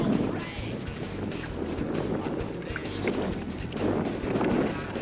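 Wind blows steadily outdoors into the microphone at a waterside spot while a cast net is thrown for bait fish, a continuous gusting rush with louder swells near the start and end.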